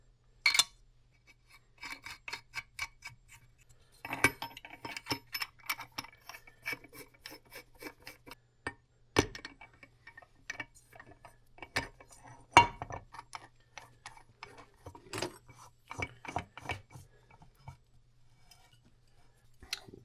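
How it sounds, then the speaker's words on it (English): A crankshaft puller tool is tightened to draw the crankshaft through its bearing in a Suzuki RM125 case, giving faint, sparse metallic ticks and scraping clicks in an otherwise quiet workshop. "So you want to use a crankshaft puller tool, which will draw the crankshaft through the bearing without doing any damage to the case or the crankshaft."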